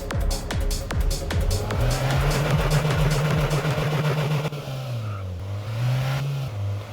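Engine of a serviced car in the video game Car Dealership 2, revving and surging with rising and falling pitch, punctuated by rapid clicking gear or impact sounds early on, then settling into an undulating drone.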